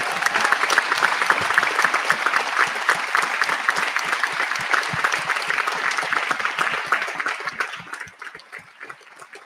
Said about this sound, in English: maybe we can give them an applause as well